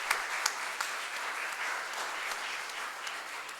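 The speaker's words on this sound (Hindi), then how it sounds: "एक बार जोरदार तालियों के माध्यम से हम उनका स्वागत करेंगे।" An audience at a memorial yajna marking a centenary gives sustained, even applause that welcomes a guest, dense clapping from many hands heard at moderate distance with a few sharper claps near the start.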